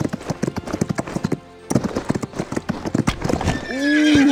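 Horse hooves clip-clop in a rapid galloping rhythm during a race in the Equestriad mobile video game, loud and close, ending with a horse's whinny and some voices underneath.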